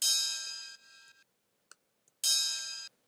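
Two bright, bell-like ride cymbal hits ring out alone, each sustaining briefly before being cut off, with tiny ticks in the quiet gap between.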